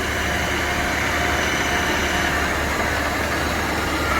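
Close by, a Victor 1640B lathe runs at high speed with a smooth, continuous whirring drone, a low hum beneath a broad hiss, and no change in level.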